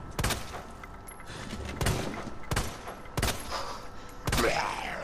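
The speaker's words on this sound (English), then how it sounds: "If only I could hit my shots." Gunshots in the Resident Evil 2 demo: five sharp, loud reports spaced about a second apart, each with a short echoing tail over a low ambient rumble, the last one followed by a sweeping whoosh.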